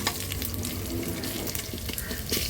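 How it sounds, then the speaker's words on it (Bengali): Dal hissing and sizzling as it is tempered with panch phoron spices in hot oil over a raised flame, a steady dense frying roar with bubbling crackle throughout and no talk. "আর ওই অবস্থাতে ডালটা বাগার দিয়ে দেখো এত সুন্দর একটা স্মেল বের হয়"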